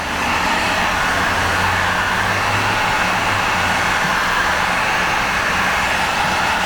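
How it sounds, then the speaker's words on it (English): Steady broadband blowing roar of a heat gun warming vinyl Vvivid light tint stretched over a Lexus headlight, continuous and close with no talking. "But right now we're going to add some heat."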